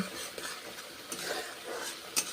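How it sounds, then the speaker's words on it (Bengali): Spice paste, loosened with a splash of water, is stir-fried in a pan for a pointed gourd dish. It gives a faint sizzle with soft scraping stirs and a small clink near the end. "মশলা ধোয়া জল সামান্য দিলাম, কষে নিচ্ছি।"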